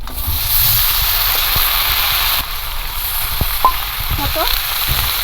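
Loud, steady sizzling of chopped vegetables and pumpkin stems in hot fish oil with occasional clinks and scrapes from stirring; nobody speaks.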